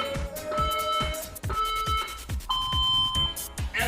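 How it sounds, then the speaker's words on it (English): A workout interval timer gives a series of repeated electronic beeps, steady and close, that rise in pitch across the countdown before a round of squats. "hopefully you're hearing this timer okay"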